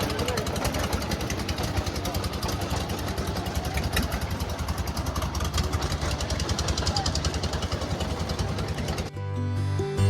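A boat engine chugs steadily on a hired boat heading to Sada Pathor in Sylhet, a loud continuous mechanical rattle with voices talking over it, ending abruptly with a quieter hum.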